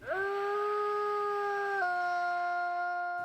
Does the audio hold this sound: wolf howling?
yes